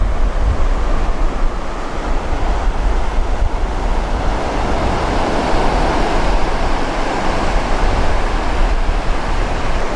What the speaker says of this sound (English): It's not too windy, it's only blowing maybe 7 or 8 miles an hour